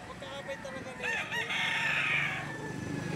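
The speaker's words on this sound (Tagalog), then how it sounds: "Sa mga oras nito, marami pang paradang manok dito." Roosters crowing and chickens clucking at a livestock auction market in Lipa, Batangas, several calls overlapping close by, with people talking in the background.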